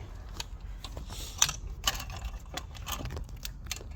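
A wrench working loose a nut during engine removal on a 2001–2005 Lexus IS300, a series of close, sharp metallic ratcheting clicks and clanks in irregular bursts.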